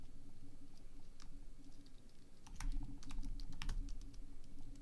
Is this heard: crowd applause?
no